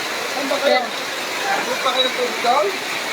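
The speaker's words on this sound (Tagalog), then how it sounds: "Yan, ganyan kalakas yung ulan dito." Heavy typhoon rain pours in a steady, dense hiss during Typhoon Carina in the Philippines, loud and continuous, with people talking over it throughout.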